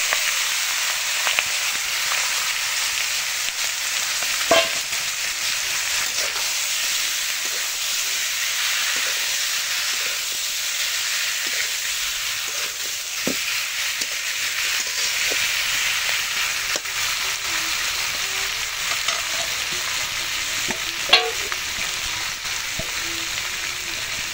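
Potatoes, taro stolons and tengra fish sizzle and fry in a pan, a steady close hiss with no pauses and a few faint clinks of utensils along the way.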